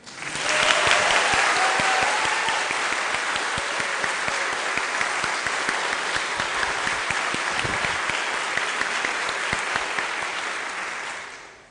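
A church congregation claps together in sustained, loud applause, the dense rattle of many hands lasting roughly eleven seconds before tapering off at the end.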